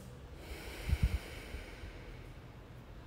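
A person in a beginner yoga class takes a single short, soft breath through the nose, a brief snort-like intake in an otherwise quiet room.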